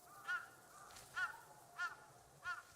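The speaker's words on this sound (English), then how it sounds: "A crow. She has a lot to say." A crow caws in the Ghost of Yotei video game: four loud, harsh caws at even intervals, each standing out clearly over a quiet, steady ambient background.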